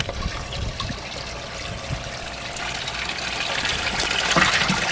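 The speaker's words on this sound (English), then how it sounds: "As you can see, the water's coming right out." Water runs from a small hose into a bait tank in a steady, moderate trickle and gush that swells slightly toward the end, with no talk over it.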